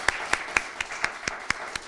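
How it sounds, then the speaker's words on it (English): Claps for a guest doctor at a health talk come as sharp, evenly spaced hits about four per second, fairly close and clear against a quiet background, with no voices. "Let's give another round of applause for Dr."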